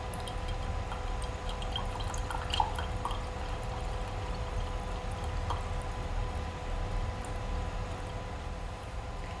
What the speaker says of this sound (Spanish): Si abrimos el grifo, podremos separar el agua del aceite que nos quedará en el embudo.